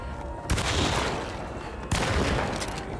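Gunfire in the Alone in the Dark video game, two heavy blasts about a second and a half apart, each leaving a long, loud rumbling tail that fills the space, with no voices.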